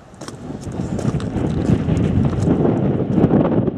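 Strong wind at Goat's Water, a mountain tarn on Coniston Old Man, roaring steadily and gusting against the microphone, building slightly louder over a few seconds with no speech.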